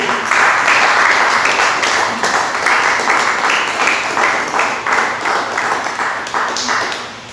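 A church congregation bursts into loud, sustained applause, many hands clapping in a dense, rhythmic wash that slowly fades toward the end.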